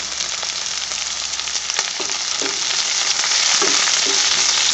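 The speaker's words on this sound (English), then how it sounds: "saute it till it's transparent, translucent. The onions." Onions sautéing with green chili, garlic and ginger for a fish molee, a loud, dense close-up sizzle with scattered scrapes and taps of a spoon stirring, growing slightly louder toward the end.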